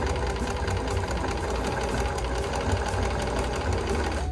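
A sewing machine stitches a fabric face mask in one unbroken run, its needle hammering in a fast, even mechanical rhythm with a low motor hum underneath, close and steady without pauses.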